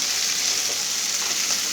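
Chopped vegetables and a medium tomato fry in a pan for a pointed gourd peel mash, giving a steady, close sizzle that holds even throughout, with no voices.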